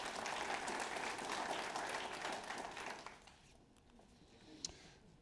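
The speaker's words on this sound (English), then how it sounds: "Let's give them applause." A leadership team meeting audience claps in appreciation, a soft, distant-sounding applause that holds for about three seconds and then dies away into a quiet room with a single small knock.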